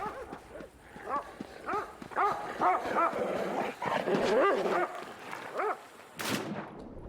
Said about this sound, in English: I don't have a problem with like the sound of the dogs